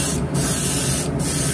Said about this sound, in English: But then as you're spraying this,